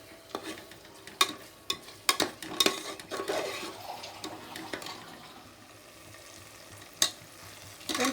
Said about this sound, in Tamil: இப்போ இதை நல்லா வதக்கிக்கோங்க